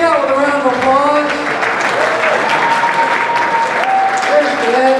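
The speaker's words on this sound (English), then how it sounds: "bring it back out with a round of applause" Loud, sustained audience applause at a magic show in a museum, steady broadband clapping filling the whole stretch with voices and cheers mixed in.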